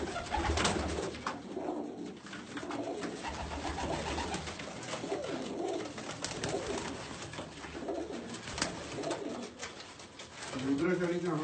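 Domestic pigeons coo repeatedly in a bird keeper's loft, soft throaty rolling calls close by, mixed with occasional wing flutters and people talking over them throughout.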